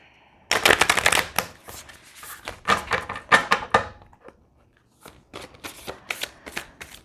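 Tarot cards are shuffled by hand in quick riffling bursts, close and crisp, with a pause before a second run of shuffling.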